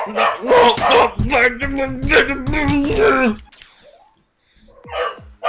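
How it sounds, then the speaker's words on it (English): Several dogs bark and yip loudly and close in rapid overlapping bursts, then break off into quieter whimpers and sparse sounds near the end. "Dogs need to shut up!"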